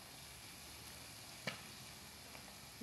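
Pork chop frying in oil under a lid, a steady close sizzle with one sharp spatter pop midway and a few fainter crackles, no voices.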